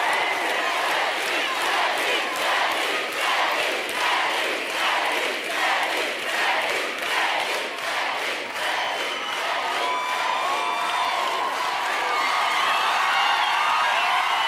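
A studio audience on a television music show applauds and cheers for a singer, a loud, steady wall of clapping and shouts that holds throughout with no letup.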